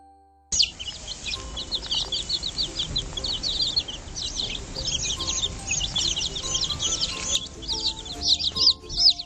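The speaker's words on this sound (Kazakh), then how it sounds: "Балапан шиқылдайды." Chicks cheep nonstop, a dense stream of high, rapid peeping that stays loud and close from start to finish.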